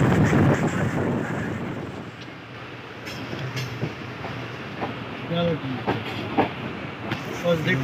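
Pakistan Railway's Khyber Mail train pulls into Khanpur station with a continuous rumbling roar and rail clatter, steady at first and then breaking into uneven knocks and rattles as it slows. Faint voices sit underneath.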